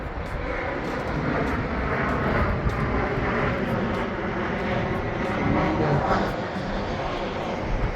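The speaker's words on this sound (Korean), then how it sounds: "아, 비행기가 또 내렸네요." Airplane landing nearby, a broad roaring engine rumble sustained throughout, fairly loud and steady, heard outdoors near a river estuary park.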